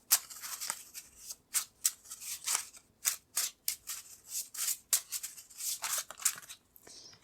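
Cards being pulled from a deck for a tarot-style reading: a close, quiet run of crisp rustling swipes and flicks in an irregular rhythm, each sharp and papery, with no talking.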